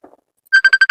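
A phone's electronic ringtone starts after a brief murmur and plays a rapid run of loud, bright, identical beeps at an even pulse, close and clear.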